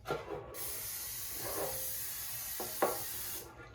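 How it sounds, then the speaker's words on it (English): A steady hiss of cooking spray coating a pan for homemade bread, lasting about three seconds, close by, with a few faint clicks and rustles around it. "spray your pan."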